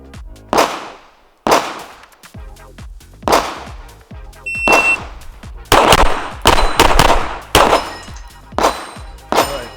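A Steyr ATC pistol fires a string of a dozen or so sharp, loud, close gunshots, spaced out at first and then in quicker bursts, with no voices.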